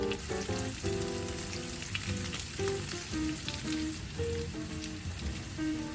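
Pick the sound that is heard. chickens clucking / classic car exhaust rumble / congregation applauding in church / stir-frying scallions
stir-frying scallions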